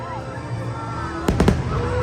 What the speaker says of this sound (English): I'm curious if they're gonna do the big fireworks.